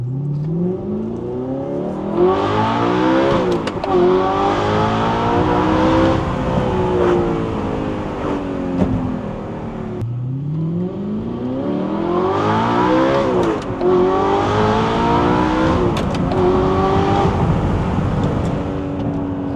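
A high-revving Audi R8 with a gated manual gearbox and tuned loud exhaust climbing and dropping through gears, loud and close with a screaming exhaust, heard in two long accelerating runs.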